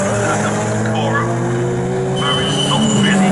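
Lotus Elise race cars at Snetterton circuit come through a left-hander, engines droning loud and continuous with rising and falling pitch, under steady race commentary.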